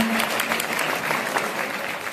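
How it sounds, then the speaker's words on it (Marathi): Audience applause for a guest at a felicitation ceremony honouring a religious figure in Jalna, a dense steady clapping from a crowd filling the room at a moderate loudness throughout. "टाळ्या वाजवून सगळ्यांनी सत्कार करावा."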